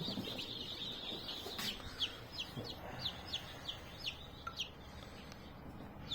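Young chicks chirp in a series of short, high peeps, moderately close and fairly faint, repeating irregularly over a low background hum.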